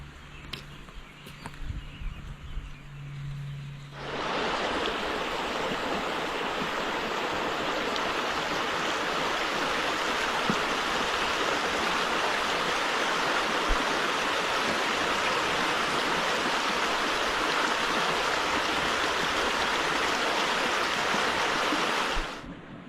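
Creek water flowing over rocks on a rural property, a broad steady rushing roar that swells in after a few quieter seconds and continues unbroken, close and fairly loud.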